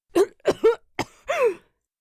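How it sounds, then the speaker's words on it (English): A narrator voices a series of harsh, throaty coughs as smoke catches a character's throat: four short bursts followed by a longer rasping one, close and clear with no other speech. "coughed at the unexpected surge of smoke as it hit the back of his throat"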